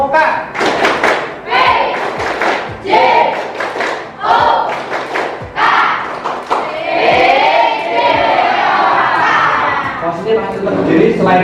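Students performing the Tepuk PJOK clapping chant in a physical education class, with rhythmic bursts of group claps and thumps alternating with loud chanting voices, close and energetic throughout.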